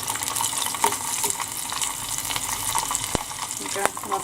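Seafood pieces deep frying a few at a time in pure vegetable oil, a loud, continuous crackling sizzle with occasional sharper pops and stirring clicks, close up.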